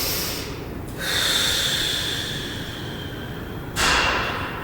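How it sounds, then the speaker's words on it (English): Deep breathing during a yoga-style recovery stretch, with a long, airy inhale near the start and a second breath rushing in toward the end, close and steady against a quiet room. "And breathe."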